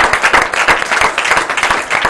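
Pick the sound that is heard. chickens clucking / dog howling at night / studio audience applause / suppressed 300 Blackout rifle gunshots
studio audience applause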